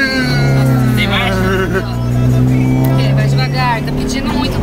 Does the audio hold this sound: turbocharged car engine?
yes